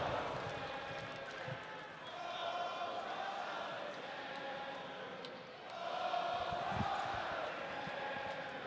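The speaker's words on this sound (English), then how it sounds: "The crowd here in full throat." A pro wrestling crowd at an MLP Northern Rising match roars in full throat, a dense, sustained wash of cheering that swells and dips across the arena, with a commentator's voice running over it.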